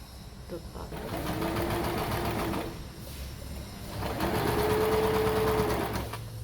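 A sewing machine runs steadily in two long bursts, sewing the outer fabric of a rectangle origami bag, its motor hum close and continuous with a brief slowdown between runs.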